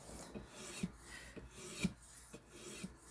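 A knife blade is sharpened on a Hapstone RS guided sharpening system, with rhythmic rasping strokes of stone on steel repeating about once a second, quiet and close.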